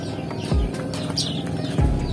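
Fowl at a bird keeper's place call out with short chirps and a brief rising squawk, mixed with a couple of low thumps in the background.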